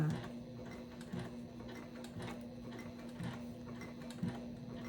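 A sewing machine stitches fabric for a Lola bag, running steadily with a faint mechanical hum and repeated small ticks, pausing briefly where the needle is lowered and the work pivoted.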